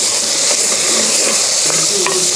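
Curry masala for a brinjal dish is stirred in a pan, with loud, close sizzling throughout and scraping strokes of the spoon.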